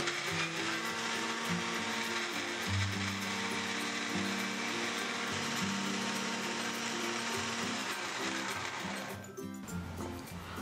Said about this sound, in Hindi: इसको मैं जार में डाल के ब्लेंड कर लेती हूँ। अब इसको ब्लेंड कर लेते हैं।